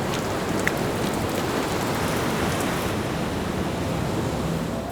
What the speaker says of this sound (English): The sea gets the rains first this time